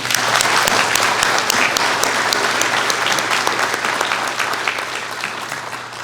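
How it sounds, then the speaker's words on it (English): Sustained, dense applause from a commencement ceremony audience, steady and loud throughout with many hands clapping together and tapering slightly toward the end. "So, another clap for Heidi."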